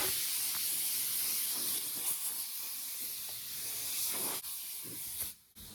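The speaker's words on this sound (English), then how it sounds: "Just grab a blower, and we'll blow it off" An air blower blasting dust off a fiberglass hood: a continuous loud close hiss of rushing air, holding steady and then cutting off abruptly near the end.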